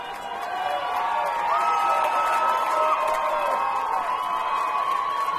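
A crowd of soccer fans at a 4A boys high school championship between Ridgeline and Crimson Cliffs, cheering and shouting in a steady, sustained roar that fills the whole stretch.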